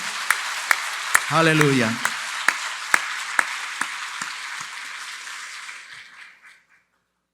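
A church congregation breaks into loud, dense applause that swells briefly with a spoken exclamation, then thins and fades out to silence within several seconds.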